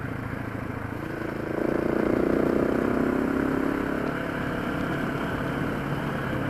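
A KTM 690 or Husqvarna 701 enduro motorcycle engine on a short ride, a steady, fairly loud drone that swells for a few seconds before settling back to an even hum.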